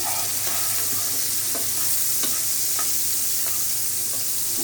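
Prawns and dried chili sizzle in a hot pan for a bitter gourd fry, giving a steady soft hiss with a few light clicks of a spatula stirring against the pan and no voices.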